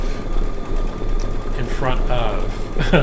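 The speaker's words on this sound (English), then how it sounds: "my embroidery machine because it will just relax you and lull you to sleep." A home embroidery machine stitches steadily in a quilting studio, its fast mechanical whir running continuously at moderate level while a person talks over it.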